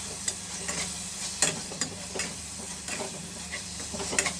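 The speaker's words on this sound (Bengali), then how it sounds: "এখন ভালো করে নাড়াচাড়া করতে হবে।" Taro root masala with turmeric, chilli and cumin powder and small fish frying in a pan, a steady crackling sizzle under brisk, regular scraping stirs, close and fairly loud, no speech.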